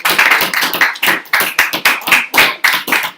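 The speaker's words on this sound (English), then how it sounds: "I'm going to get an applause here, I can tell" Applause from a small audience at a presentation on cutting guidelines, with about a dozen distinct, loud, close hand claps in an uneven rhythm.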